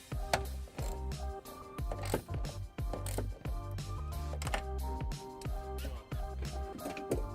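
A ratchet with a 10mm socket tightens a hex nut over a ring connector during trailer wiring on a 2015 Kia Optima, giving a rapid, steady run of close mechanical clicks with no talk.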